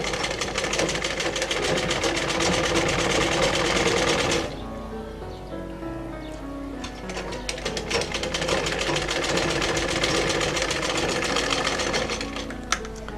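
Sewing machine stitching a cloth face mask, loud and close, running steadily with a fast mechanical chatter, briefly slowing at mid-point before speeding up again until the end.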